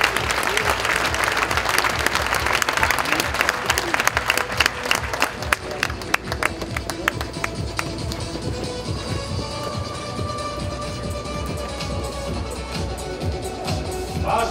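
A crowd at an Icelandic horse show claps steadily for a breeding farm's display. The applause is dense and sustained at first, then thins out slightly but carries on.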